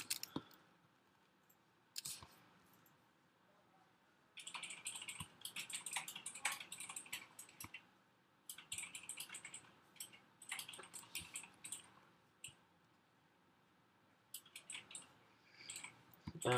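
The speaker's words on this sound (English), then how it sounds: "let me type in my password." A password is typed on a computer keyboard: quiet clusters of light key clicks in quick bursts, separated by short pauses and a few isolated single taps.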